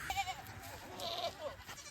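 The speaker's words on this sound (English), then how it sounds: "All right, we got the kid goats all wrangled up." Young goat kids on a farm bleating as they are herded and moved, several thin calls overlapping at moderate distance amid general outdoor activity.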